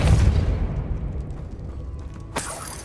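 A Depulso spell blast in the video game Hogwarts Legacy, a deep booming burst at the start that fades into a low rumble, followed by a brief sharp hit near the end.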